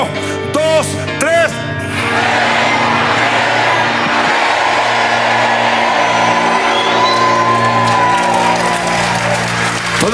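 A church congregation breaks into loud, sustained applause and cheering with whoops and shouts, filling the room after a few opening voices call out.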